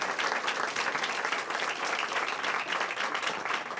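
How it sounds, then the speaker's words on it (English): Dense, steady applause fills a room at a city mayor's bill-signing ceremony, a continuous close crowd of clapping hands with no talk over it. "Give them a big round of applause."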